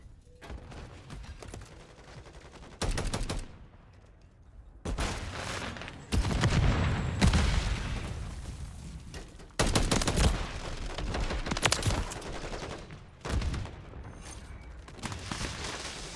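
The Sidewinder gun in Call of Duty MW3 fires in several loud automatic bursts of a few seconds each, separated by quieter gaps of game ambience.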